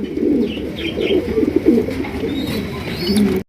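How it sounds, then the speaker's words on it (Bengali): Black beauty pigeons coo steadily in low, throaty bursts close by, with faint chirps and a few thin higher calls overhead. "এখানে রয়েছে একজোড়া বিউটির কালেকশন রয়েছে ব্ল্যাক কালার বিউটি কবুতর"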